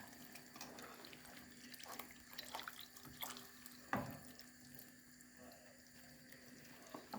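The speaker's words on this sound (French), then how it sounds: "on met de l'eau, on secoue. On remplit à moitié la briquette." Water from a half-filled carton pours into a dish for lasagne, a faint trickle and splash with small drips and a clunk, quiet and close in a kitchen.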